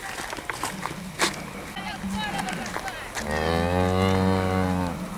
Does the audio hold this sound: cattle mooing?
yes